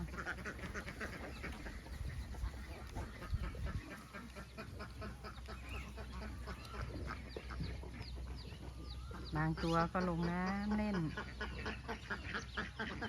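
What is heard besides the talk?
laying ducks quacking on a duck farm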